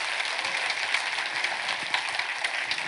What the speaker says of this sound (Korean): 박수로 영광 돌리겠습니다.